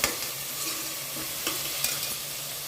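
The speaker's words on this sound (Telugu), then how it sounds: "దాంట్లోనే చక్కగా టూ స్పూన్స్ అల్లం వెల్లుల్లి పేస్ట్ కూడా వేసి బాగా పచ్చివాసన పోయేంత వరకు వేయించుకోవాలి" Ginger garlic paste frying with onions in hot oil for a mutton, drumstick and egg curry, a steady close sizzle with a few scraping stirs of a spoon in the pan.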